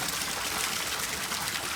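Water gushes steadily from the outlet of a 1 hp Fanking pump run on solar power through an inverter, making a continuous, close, hissing rush of flow with no talking.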